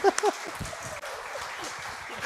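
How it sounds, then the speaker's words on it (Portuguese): A church congregation applauding during a service, a dense wash of clapping with some voices mixed in. "Você para aplaudir o Senhor, queridos?"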